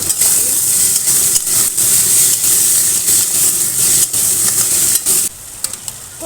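Ginger and garlic paste, tomato and spices hiss and sizzle loudly in a pan under frequent stirring, with scraping bursts and the frying thinning toward the end.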